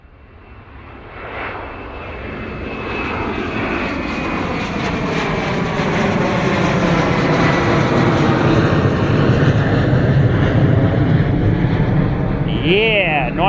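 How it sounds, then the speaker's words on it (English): A Ryanair Boeing 737 taking off from Bristol Airport bound for Valencia gives a loud, close jet roar that swells and holds steady as the aircraft climbs. "nice and loud from Ryanair off to Valencia this morning, Boeing 737"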